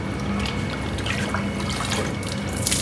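Cold water is poured over a poodle during a bath, a steady close splashing and trickling of water running over the dog's coat, continuous through the moment with no talk.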